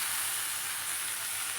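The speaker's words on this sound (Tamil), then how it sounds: "அதுக்கப்புறம் நம்ம தக்காளியை நறுக்கி வெங்காயம் வதங்கினதுக்கப்புறம் போட்டுக்கணும்." Chopped tomatoes sizzling after being added to sautéed onions in a home kitchen pan, giving a soft, steady frying hiss with no voices over it.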